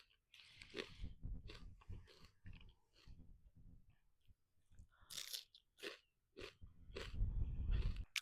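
Fresh Oregon snow peas picked from a small backyard garden are bitten and chewed close up, with repeated crisp crunches in an uneven rhythm and soft breaths between bites.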